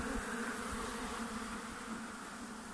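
Honeybees buzzing in summer at a hive on Ometepe, Nicaragua, a steady, faint droning hum that continues evenly without pause.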